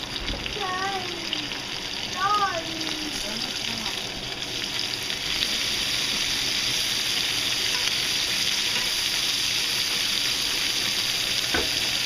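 Sliced mushrooms fry in leftover hamburger grease, a continuous bright sizzle and hiss filling the pan, with a few brief rising squeaky tones early on and no clear talk.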